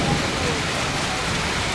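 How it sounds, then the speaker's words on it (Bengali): Heavy rain pours steadily outdoors at a wedding house during a storm, a dense, even hiss filling the short stretch with no pauses and no voices. "এমন বৃষ্টি হচ্ছে।"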